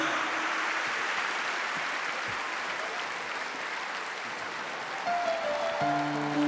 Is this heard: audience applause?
yes